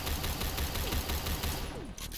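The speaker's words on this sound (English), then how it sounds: "this gun has a slower RPM mode" Rapid automatic gunfire from a weapon in the Phantom Forces shooter game, set to a slower fire-rate mode. A steady burst of evenly spaced shots sounds loud and close, then cuts off near the end.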